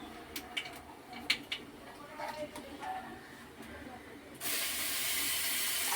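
Ground beet paste with green chilli drops into hot oil and bursts into a loud steady sizzling hiss after a few quiet clinks and soft kitchen noises.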